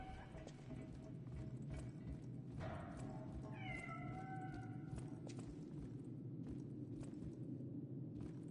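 A cat meows several times in the video game Lies of P, a brief mewing call rising over a steady low rumble and clopping game ambience, with no talk.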